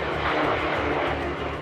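A Messerschmitt Me-163 rocket-powered fighter aircraft roars past as a loud, broad engine rush, steady and close, with no voices.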